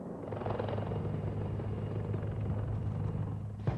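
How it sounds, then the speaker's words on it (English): Italian Mangusta helicopter gunships flying, a steady loud rotor rumble with a low droning pulse that holds throughout without letting up. "helicopter gunships like these Italian Mangustas"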